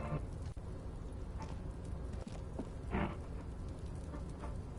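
Steady, soft rain pours on a rooftop in the video game Disco Elysium, a constant hiss with a few faint thuds and drips, heard alone.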